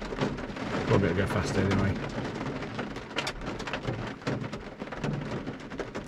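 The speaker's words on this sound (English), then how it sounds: "It is chucking it down." Heavy rain pours down steadily as a dense hiss, drumming on a parked vehicle sheltered under trees, while a person talks over it.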